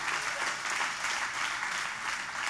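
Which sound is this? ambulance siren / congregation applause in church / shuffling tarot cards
congregation applause in church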